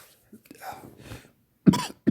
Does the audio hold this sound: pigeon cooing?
no